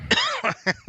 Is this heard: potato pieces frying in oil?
no